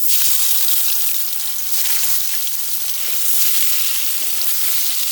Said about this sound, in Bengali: সব ভেজে নেব